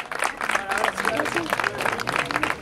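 Sustained crowd applause with dense clapping fills a trophy and medal ceremony for a 2016 amateur football championship, steady and fairly loud throughout, with no voices standing out.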